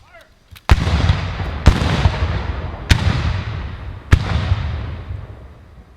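Four sharp ceremonial rifle volleys ring out at a headstone dedication, spaced about a second apart, each loud crack followed by a rolling outdoor echo, after a brief shouted command.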